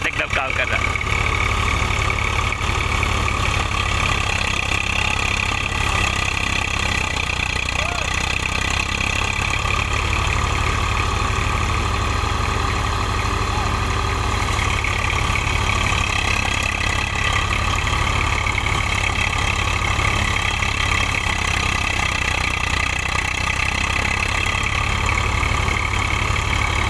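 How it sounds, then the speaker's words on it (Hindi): A Swraj 744 tractor engine runs steadily and loudly during rice threshing, a dense unbroken drone with a throbbing low end that continues throughout, and someone talks over it. "देखो ये ट्रैक्टर अपना लगा हुआ है किस तरह फड़फड़ा रहा है"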